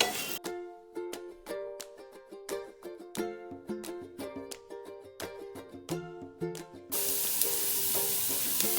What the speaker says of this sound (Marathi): तांदूळ तुपामध्ये छानपैकी फ्राय करून घ्यायचा आहे.